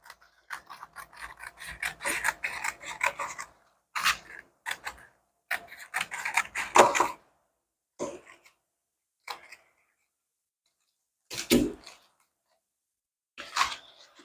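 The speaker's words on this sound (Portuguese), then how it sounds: "cortei o meu papel crepom" Italian crepe paper being cut with scissors: bursts of crisp rasping snips and rustles in separate spurts with silent gaps, close and fairly quiet, no talk.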